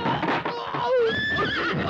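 Cartoon horse gives a loud, close, shrill whinny that rises and wavers, heard alone with no talking.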